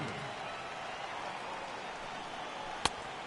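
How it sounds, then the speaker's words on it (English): Heavy rain pours down over a baseball stadium during a San Francisco Giants season opener, a steady broadband hiss throughout with one sharp click near the end. "the rain starting to intensify here. It's coming down a little heavier now."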